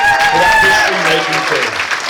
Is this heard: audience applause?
yes